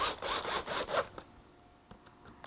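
Wood screws driven and countersunk into stair timber: a run of rhythmic rasping, grinding bursts in the first second, then fainter scattered clicks and scrapes close by.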